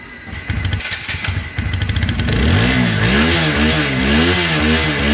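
A used TVS Apache RTR 160 4V motorcycle, blue, revving close by: a rough idle burbling first, then the engine climbs into repeated rising and falling revs, loud and alone.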